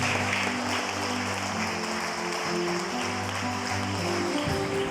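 A church congregation applauding in worship, a steady wash of clapping sustained throughout over a low droning keyboard or organ tone.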